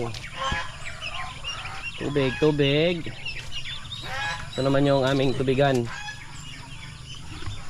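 Chicken and turkey chicks on a farm, heard as repeated loud honking, clucking calls in short bursts close by, with a person talking in between.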